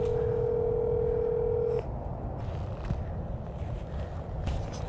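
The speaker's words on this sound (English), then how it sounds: "Calling Brock home on speaker" A phone on speakerphone sounds a steady dial tone for nearly two seconds before it cuts off, leaving loud outdoor wind rumble at a motorcycle riding area.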